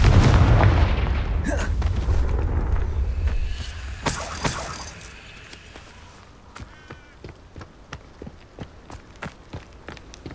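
Confringo fire-blast spells explode in Hogwarts Legacy, a heavy booming burst at the start that rumbles and fades, followed by scattered sharp impacts and quick footstep-like clicks.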